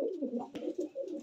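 Pigeons at a loft coo close by in a soft, repeated low burble, with a brief sharper sound near the middle as the birds are handled for netting and feather trimming.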